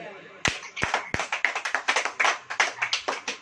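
A church congregation claps in time during a sermon, a run of sharp, close, rhythmic hand claps that quickens after a few slow opening strokes, with voices underneath.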